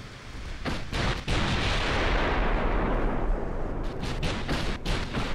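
Warship naval gunfire in the strategy game Ultimate Admiral: Dreadnoughts, with a dense, loud roar of overlapping cannon booms and rumbling blasts, a few distinct thumps punctuating the continuous barrage.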